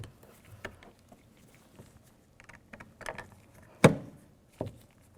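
A plastic trim piece is pried out of a rear interior door panel on a 2003-2007 Honda Accord. Faint scattered clicks and scrapes lead to one sharp, close snap as it pops free, then a softer click.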